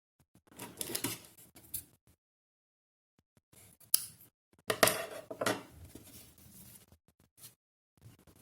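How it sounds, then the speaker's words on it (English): Scissors snipping crochet yarn at the end of a doll body, a few short crisp cuts clustered in two bursts, close and fairly quiet with silent gaps between. "And cut the yarn."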